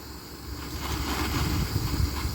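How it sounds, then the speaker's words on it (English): Gusty wind buffets the microphone outdoors beside a 1998 Dodge Dakota under repair, a steady rushing roar that swells and thumps toward the end, with no voices. "At least it's nice and windy out."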